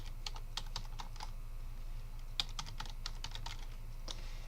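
Soft keystrokes on a computer keyboard tap out an email address in short uneven runs, fairly faint over a steady low electrical hum.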